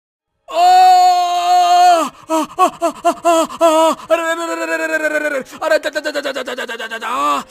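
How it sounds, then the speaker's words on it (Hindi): A cartoon confectioner screams in pain after hot syrup spills on his foot: a long loud strained cry, then choppy wailing bursts and sobbing yells, close and intense. "हलवाई चीख पड़ा।"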